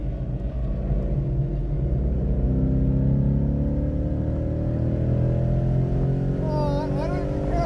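A 2015 Ford Mustang GT engine on a track-day lap at Chuckwalla Valley Raceway. It gives a loud, close, steady rumble that climbs in pitch as it revs and accelerates.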